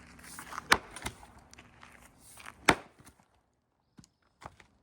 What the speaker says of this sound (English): you're not forcing that axe to work that hard. You're splitting it.